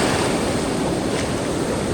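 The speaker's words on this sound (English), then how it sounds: "there's not much buffering the full power of the waves from sweeping up the beach" Surf rolls up a shallow, gently sloping beach with little to break the waves, a steady loud wash of breaking water with wind noise across the microphone.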